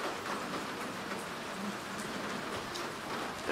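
Rain falls steadily outdoors as an even, soft hiss of many drops with no clear break, fairly faint and without voices.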